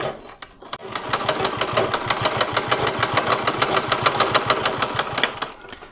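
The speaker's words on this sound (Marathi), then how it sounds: "तर एवढ्या अंतरावर मी टिप मारून घ्यायला चालू केली बघा." A sewing machine stitches cloth cut from old sarees, running in a fast, steady, loud mechanical rattle for several seconds after a couple of brief starting clicks.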